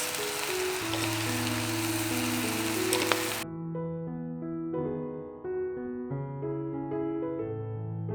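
Lean ground beef sizzles in a dry pan with no oil, a steady hiss for about three seconds over background music, after which only the music continues.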